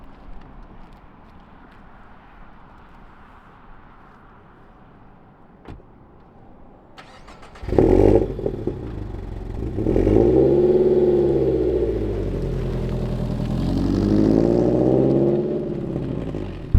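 Toyota GR86 with an aftermarket exhaust cold starting after a quiet lead-in: a sharp crank and catch, then a loud, rising rev that settles into a high idle and swells again near the end.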